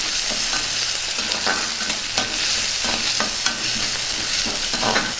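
Onions, green chillies and curry leaves fry in a pan, a steady loud sizzle broken by regular scraping strokes of a spoon stirring them around, with no talking.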